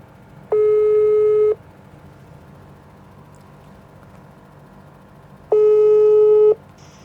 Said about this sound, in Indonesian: Kita langsung telepon orangnya biar kita langsung tahu gimana keadaan di sana.